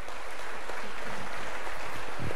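Audience applause at a fashion conference in a large hall, a dense broadband wash of many hands clapping steadily and fairly loud throughout, with no voices over it.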